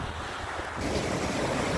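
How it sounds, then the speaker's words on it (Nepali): Sea waves wash steadily onto the shore by a hotel, a continuous rushing surf mixed with wind buffeting the microphone. "यो चाहिँ समुद्र।"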